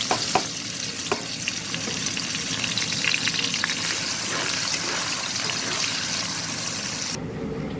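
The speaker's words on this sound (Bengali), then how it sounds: "এবার আমি পেঁয়াজ দিচ্ছি" Onions dropped into hot oil with dried chillies fry with a dense, steady sizzle and crackle, close up, marked by a few sharp clicks of a spatula against the pan near the start.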